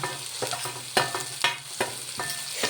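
Ginger, garlic and shallots fry in a pan, a soft sizzle broken by a quick run of close spatula scrapes and taps in a loose rhythm, with no voices.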